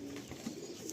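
Soft, low cooing from pigeons for sale at a Metiabruz loft, a brief murmur over constant background noise.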